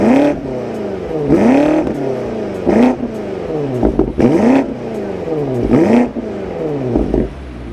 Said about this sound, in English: Got a quad exhaust, performance exhaust from M to hear the sweet sound of the V8 B-Turbo.